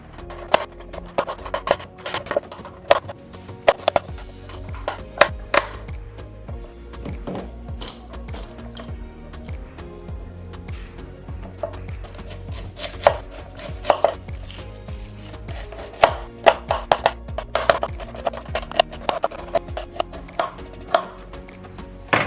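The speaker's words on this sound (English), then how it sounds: "I like carrots in my lentil soup, so that's why I am chopping these." A knife chops carrots on a cutting board for lentil soup in a home kitchen, with steady, close, sharp repeated strikes in irregular bursts throughout and no talk.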